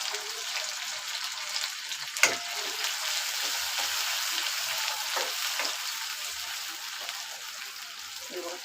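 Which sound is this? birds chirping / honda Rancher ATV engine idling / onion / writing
onion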